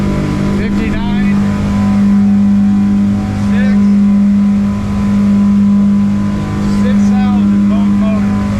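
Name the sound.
boat motor running at speed on water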